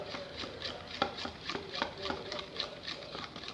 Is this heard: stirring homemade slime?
yes